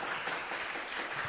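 Audience applause at an Indonesian university public lecture, a dense, steady wash of many hands clapping together, moderately loud and continuous throughout, with no voices over it.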